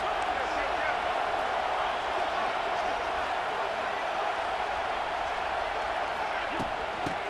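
A stadium crowd in EA Sports College Football 26 roars as a steady, dense wash of noise during a big third down, constant and unbroken from start to finish with a faint thump near the end.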